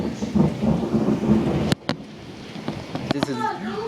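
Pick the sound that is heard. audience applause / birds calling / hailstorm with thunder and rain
hailstorm with thunder and rain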